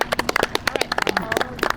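Small outdoor audience clapping for a woman, quick irregular claps close by, fairly loud, with a few voices mixed in.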